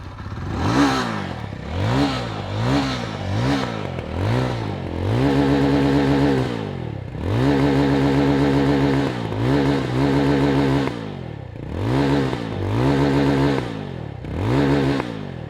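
A Jawa 42 FJ motorcycle engine revs up close in a series of sharp throttle blips, each rising and falling, with some held longer revs in the middle.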